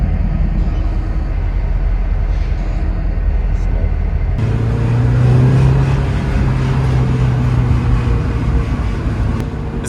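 An NB Mazda Miata engine held at high RPM during an oil system treatment, a steady loud drone that climbs in pitch partway through and keeps humming under occasional talk.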